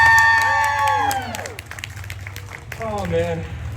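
A crowd breaks into cheering and applause together with shouts. Someone talks loudly over it, and the cheering swells again near the end.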